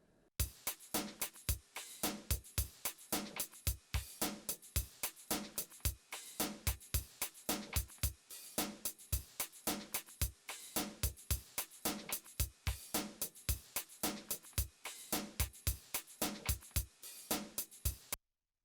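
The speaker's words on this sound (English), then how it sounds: "First I'm gonna play the whole drum rhythm." A drum pattern from a 1997 song plays alone, with punchy kicks and sharp hits repeating in a tight, steady groove for the whole stretch.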